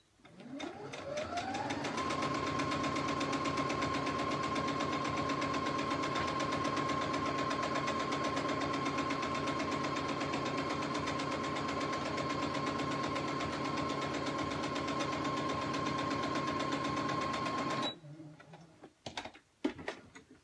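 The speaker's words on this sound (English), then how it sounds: "I'm going to sew right here along this pink line." A sewing machine speeds up and stitches quilt-as-you-go strips along a marked line in one long, steady, rapid whirring run, then stops near the end, leaving a few soft handling clicks.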